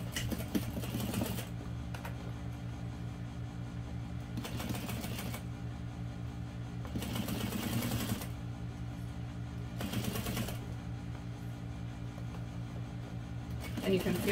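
A sewing machine stitches the lining of a small parachute knapsack made with vinyl and waterproof canvas, giving several short rattling bursts over a constant low hum, with a person talking throughout.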